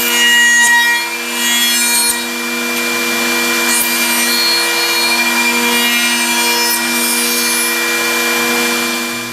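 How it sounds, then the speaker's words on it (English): Accu-Systems MMTX miter, mortise and tenon machine, with a 17,000 RPM spindle, cutting wood: a loud, steady high-pitched motor whine with grinding cutter noise and brief bursts of machining, close and continuous without talk. "When the cycle start button is pushed, the material is clamped and the cycle begins."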